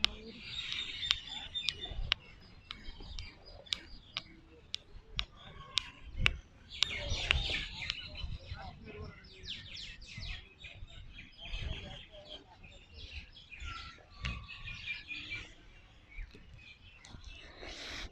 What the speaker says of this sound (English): I really love listening the soothing sound of the bird